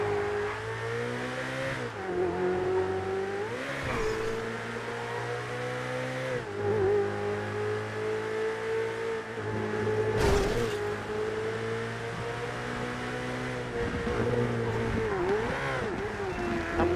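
Cars drive in a GTA roleplay game, a mid-pitched engine droning steadily with repeated dips and rises as gears shift and revs climb, close and continuous, with a brief louder burst near the middle.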